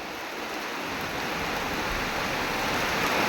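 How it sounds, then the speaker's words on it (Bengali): Heavy rain pouring outdoors beside a roadside open field, a dense, loud roar of noise that swells slightly and never lets up. "এতটা বৃষ্টি হচ্ছে দেখো প্রচণ্ড বৃষ্টি"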